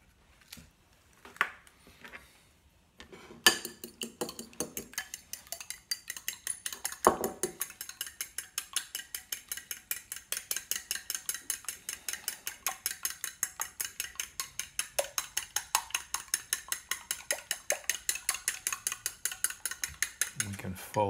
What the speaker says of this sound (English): Now, I need one egg beaten to add to the mix.